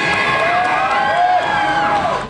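Crowd of children cheering and shouting at a Disneyland ice carving show as the ice comes down, a steady, loud, continuous wash of high excited voices and whoops.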